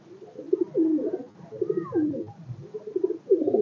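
A pair of Madrasi pigeons coo close by, with low, throaty, rolling calls that repeat in a steady rhythm and no one speaking over them.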